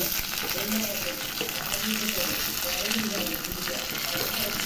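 Onions and green chillies fry in a pan, giving a steady, close sizzle that runs through the whole stretch with occasional stirring scrapes.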